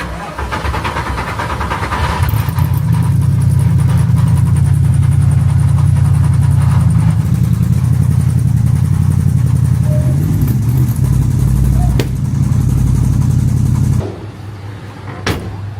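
Mercedes SLS AMG GT3 race car engine cranking and firing up, then a loud, steady idle with a few blips of revs, near and alone, cutting off abruptly near the end.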